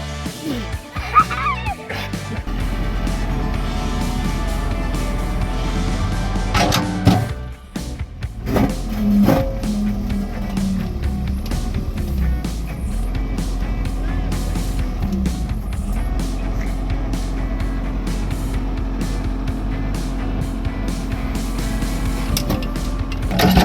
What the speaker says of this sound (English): Tractor versus Boulder.